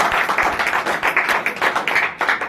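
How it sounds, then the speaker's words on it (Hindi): Audience at an IMC business meeting in Badagaon clapping together in a brief, fairly loud burst of rhythmic claps, close by, with no talk over it. "ताली होनी चाहिए इस बात के लिए।"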